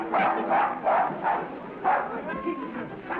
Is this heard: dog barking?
yes